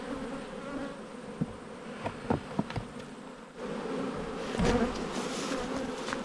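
Honey bees swarm around an opened hive during a check of eleven hives after a tough season, a steady close buzz with occasional louder passes and light clicks of handled frames, no talk.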